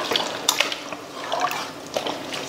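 Water splashes and trickles as it is added to mutton curry in a pressure cooker, a close, uneven run of small liquid sounds with occasional drips.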